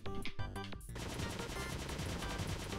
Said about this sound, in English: Try fire the machine gun up.